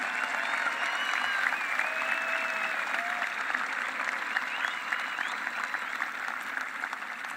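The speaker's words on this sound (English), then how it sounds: "Please give a big round of applause for the students" A graduation crowd at a high school commencement applauds students in the top of their class, steady dense clapping heard at a moderate distance, even and unbroken throughout.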